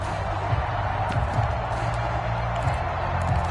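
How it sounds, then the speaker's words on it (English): A stadium crowd at a football video game gives off a steady, diffuse roar of distant cheering and murmuring, a constant wash of noise with no single voice standing out. "Crowd getting in it a bit already."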